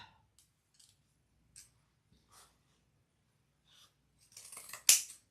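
Scissors trimming sewn fabric at a sewing table, a few faint scattered snips followed by a louder, closer cluster of cuts near the end.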